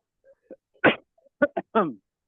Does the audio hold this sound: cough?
yes